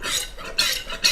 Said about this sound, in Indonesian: dari sini sekalian kita kocok-kocok biar olinya keluar dulu.